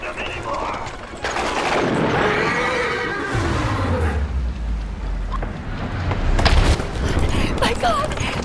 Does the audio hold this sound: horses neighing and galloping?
yes